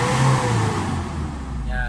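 A Mitsubishi Adventure's engine revs hard toward the red line at about 4,000 RPM, a close, sustained mid-pitched roar with a rising tone near the end.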